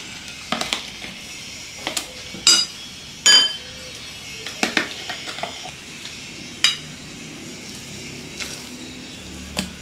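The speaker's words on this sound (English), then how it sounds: "We are going to transfer our mixture here." Cauliflower fritter mixture is moved into a dish, with metal utensils sharply clinking and tapping against it in irregular bursts, close and crisp over a quiet kitchen background.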